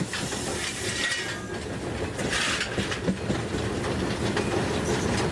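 A Japanese train in western Japan rolls along the rails, heard from inside the locomotive. A steady dense rumble with rhythmic wheel clicks and faint hiss continues throughout, close and even.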